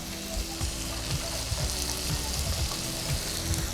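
Onions and carrot fry in butter in a pot over medium heat, giving a loud, constant close-up sizzle with low bubbling and occasional stirring bumps, no voices.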